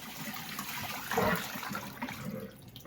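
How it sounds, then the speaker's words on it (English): Water from a sink that held a leather bag being dumped out, a steady rushing pour with a brief louder gush near the middle before it settles into a continuous drain-like flow. "I'm gonna go ahead and dump that out"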